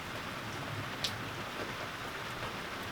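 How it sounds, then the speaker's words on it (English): Steady rain falls on a porch as a dense, even hiss, with one brief sharper patter of drops near the middle and no talk. "I can hear the rain"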